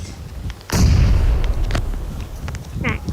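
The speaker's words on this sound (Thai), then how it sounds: "ระเบิดมาอีกแล้ว" A loud, deep explosion in a video game booms and rumbles away, followed by scattered crackling bursts of game gunfire and a brief whoosh.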